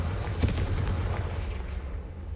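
A Confringo blasting spell explodes in the Hogwarts Legacy video game, a single booming burst near the start followed by a sustained low rumble that lingers to the end, with no talking.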